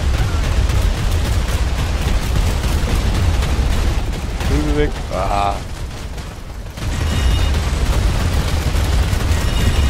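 Cannon and gunfire in the video game Planetside 2, a dense, continuous wall of loud booming shots and rumbling explosions. It drops briefly midway, then returns at full force, with a voice speaking German over it.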